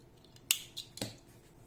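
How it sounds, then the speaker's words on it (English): Scissors cut through crochet yarn on a small bunny appliqué: a quiet close-up of two or three crisp snips in quick succession, set against a near-silent room. "And I am making 1 chain to fix the yarn and cutting the yarn."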